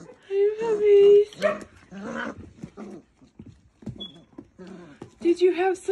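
Five-week-old puppies give small yips, barks and whimpers close by, mixed in and out of a woman's high-pitched talking to them.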